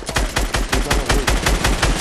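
Video game gunfire, including sniper shots, as a loud, unbroken string of evenly spaced shots in a fast regular rhythm, close and punchy, with no voices.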